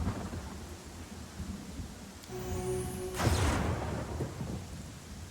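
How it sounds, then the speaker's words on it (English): Rain and thunder in the video game Pathfinder: Kingmaker, a constant patter of rainfall over which a loud rumbling thunderclap breaks out midway and rolls on, heard alone without talk. "I wonder if this rain actually affects anything."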